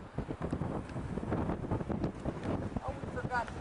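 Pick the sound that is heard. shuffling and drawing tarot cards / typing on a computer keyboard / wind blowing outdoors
wind blowing outdoors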